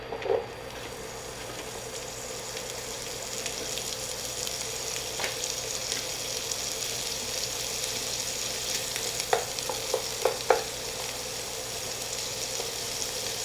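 Pancetta fries in butter in a pan, giving a steady close sizzle with a few sharper pops and crackles toward the end and no voices.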